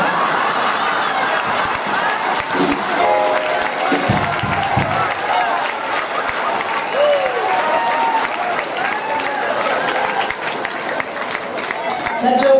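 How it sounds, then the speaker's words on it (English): An audience applauding after a joke at a comedy-and-music tribute show in a cultural center, a broad sustained burst of clapping with some cheering and chuckles, with a voice speaking over it. "That joke gets a lot more applause in the wintertime"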